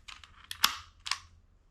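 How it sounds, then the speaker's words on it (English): A Tokyo Marui MK23 airsoft pistol with an upgraded hammer gives a few sharp, quiet mechanical clicks at close range. One snap stands out a little louder than the others, and no one is talking. "The biggest noise you'll get from it is the hammer."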